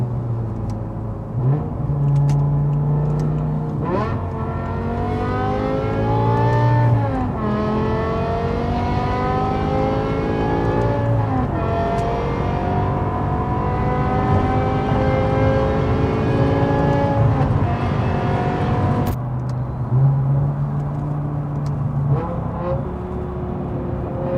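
A sports car exhaust revs repeatedly, engine pitch climbing and falling in throaty waves, loud and close, with a sharp drop back to idle near the end.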